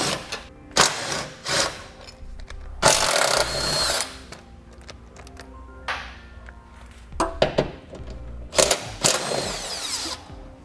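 Power tool bursts, likely an impact driver or drill, removing 13 mm bolts from the exhaust hanger brackets beside a muffler during a trailer hitch install. Several short loud whirring runs alternate with quieter gaps and a few clanks, with no talk.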